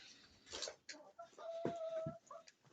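Chickens cluck and squawk nearby in short bursts, with one drawn-out tonal call in the middle, fairly quiet overall.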